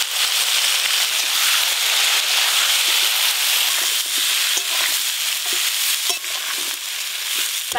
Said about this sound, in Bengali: ওই তেলে আলু আর ফুলকপি ভালো করে ভেজে নেব।